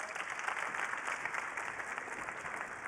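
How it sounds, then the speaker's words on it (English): Applause from a keynote audience at Cisco Live in Las Vegas, a steady distant wash of many hands, soft and even throughout. "applause for Kamal"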